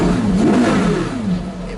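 Porsche Carrera GT engine revs hard and fast, a loud, close, high-pitched wail rising and falling in quick blips with no talk over it.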